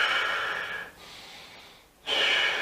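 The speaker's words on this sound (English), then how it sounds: "If you bring your shoulders over and you try and take a deep breath in" A deep breath drawn in with the shoulders hunched forward, heard as a loud, close, airy rush that fades, drops away briefly, then surges again strongly.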